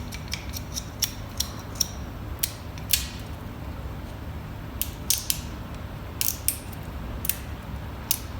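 Excess acrylic being peeled off the sides of a dental denture flask case, giving scattered short crisp snapping and cracking bursts at irregular intervals over a quiet background.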